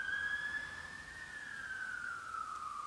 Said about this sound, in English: we can hear the sirens